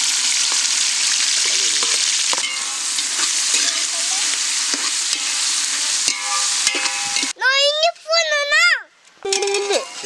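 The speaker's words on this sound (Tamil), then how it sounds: "நறுக்கி வச்ச வெங்காயத்தை சேர்த்துக்கலாம்." Chopped onions frying and being stirred in a pan for quail biryani cooked outdoors, a steady close sizzle with scraping stirs, then children's voices break in over the cooking during the last few seconds.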